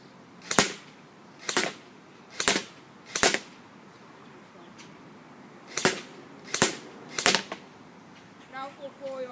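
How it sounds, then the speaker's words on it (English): An Airsoft M4 Lancer Tactical Interceptor fires single shots on semi-automatic, seven sharp, crisp cracks in two groups of four and three, with short quiet gaps between shots. "I'm going to start off at semi-automatic and then work my way up to fully automatic."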